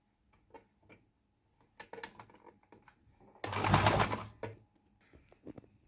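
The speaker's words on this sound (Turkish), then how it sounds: "overlock makinesi olmayanlar için burayı da zikzak ayarına getirip şu şekilde zikzak çekebilirsiniz" A sewing machine runs a zigzag stitch along a dress sleeve, a brief, close mechanical whir of about a second, surrounded by soft clicks and handling noises.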